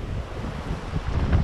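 Ocean surf and strong wind at a Hawaiian beach, a brief steady wash of waves mixed with buffeting wind noise on the microphone.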